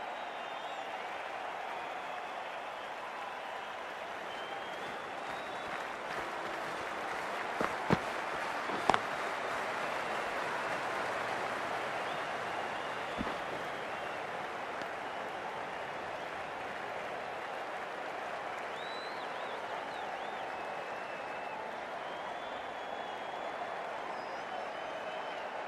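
Cricket stadium crowd at an India versus New Zealand match, a steady broad roar of applause and cheering throughout, with a few sharp claps or pops standing out near the middle.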